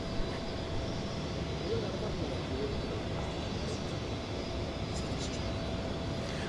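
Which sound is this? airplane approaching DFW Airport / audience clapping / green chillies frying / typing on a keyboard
airplane approaching DFW Airport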